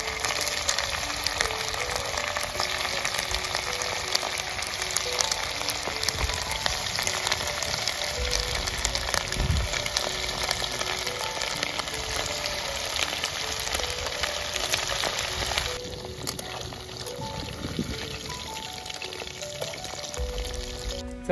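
Chicken pieces fry in hot oil in a kadhai at an outdoor jungle cookout, giving a steady, close, loud sizzle and crackle that runs throughout with no talk.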